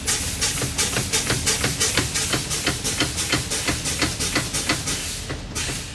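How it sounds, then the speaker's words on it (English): A transit bus's air brakes are pumped down, giving a rapid series of sharp, loud air hisses in a steady rhythm, roughly three per second, close by. "I'm going to bleed my brakes."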